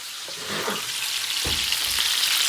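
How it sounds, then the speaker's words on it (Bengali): Fish frying in a pan, a steady close sizzle and crackle of hot oil with a couple of stirring or turning sounds partway through. "মাছ ভেজে নিয়ে একেবারে টেবিলে চলে আসছে"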